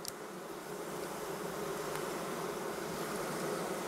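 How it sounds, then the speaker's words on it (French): Honeybees buzz in a steady, dense drone as a beekeeper drives them off the honeycombs before the harvest, a continuous swarm hum heard close and fairly loud with no voices. "éloigne ses abeilles des rayons avant la récolte"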